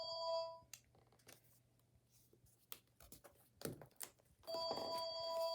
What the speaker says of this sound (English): there's my phone ringing, so I'm going to answer that